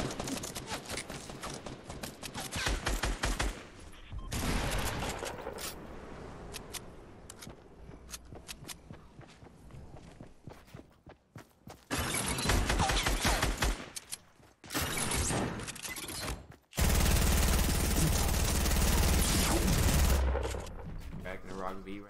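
Gunfire in Fortnite aimed at knocking down built walls: long stretches of rapid, dense shots that go in loud bursts with brief gaps, mixed with game effects and some talk.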